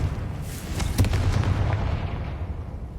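A Confringo blasting spell goes off in the Hogwarts Legacy video game: a low, rumbling explosion with a sharp crack near the one-second mark, followed by a sustained boom that slowly fades over a few seconds.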